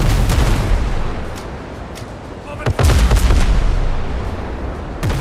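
Ship cannons fire in the video game Windrose: a series of loud booming shots, some spaced apart and some clustered, rolls over the rumble of the sea and ship, with a heavy double blast near the middle and voices faintly underneath.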